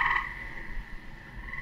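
A tree frog croaks in a steady, nasal trill, close and fairly loud, with a faint background hum and no voices.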